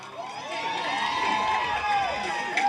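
A college crowd at SRM cheers and whistles during a film first-look poster launch, a steady roar of shouts with rising and falling whistles, moderately loud and sustained for a few seconds.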